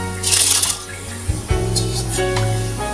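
Soaked rice tipped into a pot of boiling water with a little oil for chicken biryani, giving a brief splashing pour and soft sizzle over the steady bubbling of the boil, close by with no talk.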